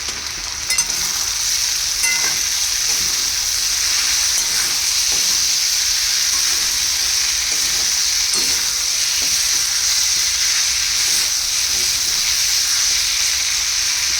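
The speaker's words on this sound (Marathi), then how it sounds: "आता दुसऱ्या साईडनी देखील आपल्याला हे परतून घ्यायचं आहे" Thin potato slices for a Maharashtrian batata bhaji sizzle steadily in a pan, a continuous close hiss with occasional light scrapes as they are turned, no voices.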